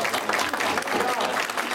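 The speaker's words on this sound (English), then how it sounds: "give a big round of applause to Meenu and this wonderful panel again" A forum audience gives a panel a round of applause, a dense, close burst of many hands clapping with crowd murmur mixed in.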